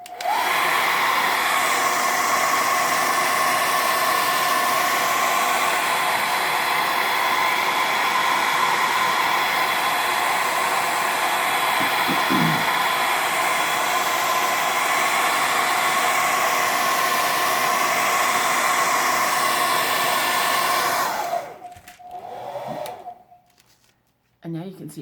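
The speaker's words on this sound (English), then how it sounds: "I'm going to show you what it feels like once I've used the magic hairdryer" A hair dryer blows loudly and steadily for about twenty seconds, then shuts off, leaving brief handling noises.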